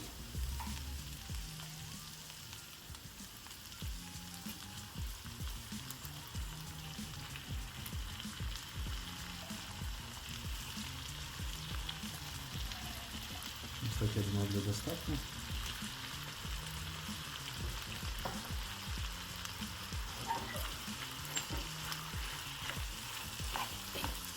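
Solyanka fries in a pan with tomato sauce stirred in, a steady close sizzle and crackle with stirring scrapes throughout, briefly louder midway, and faint talking in the background.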